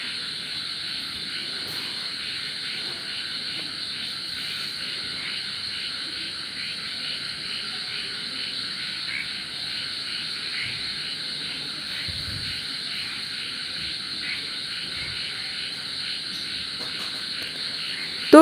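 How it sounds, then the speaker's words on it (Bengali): Spicy black cumin pitha frying in hot oil over a medium flame, giving a steady, even sizzle and hiss that runs unbroken throughout with no voices. "এই যে গরম হতে দেওয়া তেলের মধ্যে দিয়ে দেওয়া হলো পিঠাটা।"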